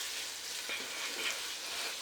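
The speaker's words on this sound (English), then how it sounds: "while this fries a bit" Chicken and chorizo frying in a pan give a steady, faint, even sizzle with a light crackle throughout, and no other sounds stand out.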